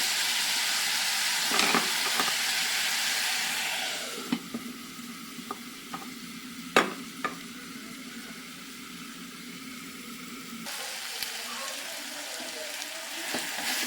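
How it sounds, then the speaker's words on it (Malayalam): Onions sautéing in a pan, a strong hissing sizzle that drops to a quieter simmer midway with a few sharp utensil knocks, then surges back loud near the end. "ഉള്ളി നല്ല രീതിയിൽ നല്ലോണം വേവുന്നത് വരെ വഴറ്റിയെടുക്കുക."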